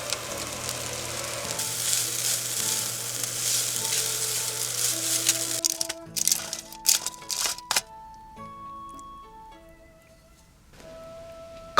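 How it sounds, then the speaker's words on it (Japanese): Soba noodles seasoned with mentsuyu fry in a pan inside a compact kei camper van, giving a steady close sizzle that breaks into clattering stirring and then fades to a quieter hiss. "そばもめんつゆで軽く味付けして焼いていきます。"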